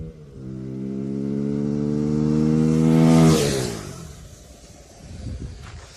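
A KTM 390 motorcycle fitted with a K&N air filter revs close by, its exhaust rising steadily in pitch to a peak, then dropping back with crackles and settling to a burbling idle.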